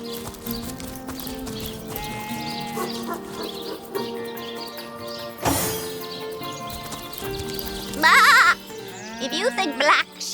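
Sheep bleat in the fantasy role-playing game Divinity: Original Sin amid clopping hooves and ambient game sounds, with a couple of loud wavering bleats near the end; people talk over parts of the scene.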